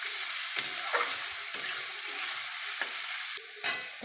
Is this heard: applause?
no